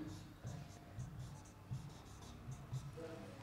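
Pen scratching on paper while a flowchart is drawn by hand, soft short strokes in irregular bursts, faint and close, with quiet speech underneath.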